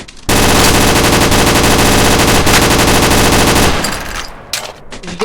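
Sustained, loud automatic gunfire from a VR shooting game, a dense unbroken burst of rapid shots lasting several seconds before cutting off and giving way to scattered fainter clatter.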